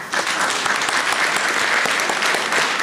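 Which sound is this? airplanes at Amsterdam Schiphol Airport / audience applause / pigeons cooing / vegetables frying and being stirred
audience applause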